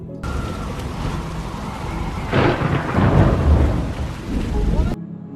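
A violent storm lashes a remote island with heavy, constant rain and deep, rolling thunder that swells loudly midway before easing off.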